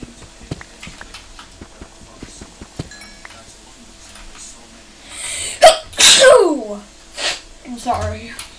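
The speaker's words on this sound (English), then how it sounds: "Sorry, I got a bit of a sneeze." One loud sneeze bursts out close to the microphone during a Minecraft hardcore game session, after a stretch of quiet game clicks and faint sounds, and muffled exclamations follow.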